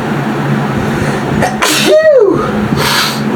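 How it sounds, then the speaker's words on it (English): A single loud human sneeze from a person with spring allergies, a sharp intake followed by an explosive burst, heard close up against quiet room tone. "you better hear me sneeze"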